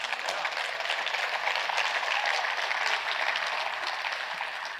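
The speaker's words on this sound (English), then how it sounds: "You should give yourselves a round of applause for being in the right place" A roomful of people at a roofing sales seminar claps steadily, a dense even wash of applause from start to finish with no talk over it.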